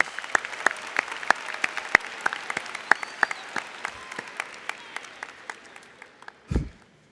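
Sparse, individual claps ring out from a graduation audience in a large hall, a thin scattered round of applause with distinct separate hand strikes, followed by a brief low thump near the end.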